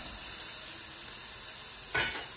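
Onions frying in a pan for an albacore tuna stew make a steady, fairly faint hiss, with a brief louder burst of sizzle near the end as more is stirred in.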